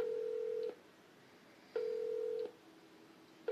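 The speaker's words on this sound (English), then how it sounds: "I decided I would phone her on the way to her house." A steady telephone tone from dialing a call sounds in two long bursts separated by a pause, clear and alone against faint background hiss.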